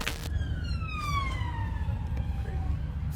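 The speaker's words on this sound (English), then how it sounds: "a police car with sirens can be heard in the background" A police car siren sounds in the background over a steady street rumble, its wailing tone sweeping and falling in pitch as the car passes by.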